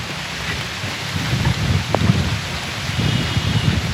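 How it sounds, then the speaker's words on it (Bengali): Rain falling outdoors at a village cooking site, a steady broadband wash of drops with low rumbling underneath, continuous and fairly loud for the whole stretch, with no voices. "বলতে বলতে বৃষ্টি চলে আসলো,"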